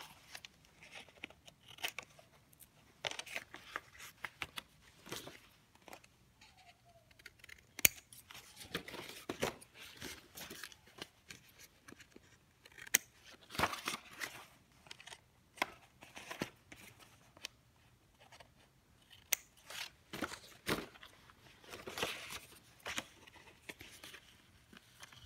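Cutting material for matrix framing, a faint, quiet run of scattered snips and short cutting clicks spread irregularly over about twenty-five seconds, close by, without talk.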